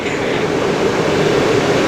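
Continuous whooshing rush of air roaring out of a sea blowhole on the coast of Spain, a broad, breathy hiss with a low rumble, steady throughout.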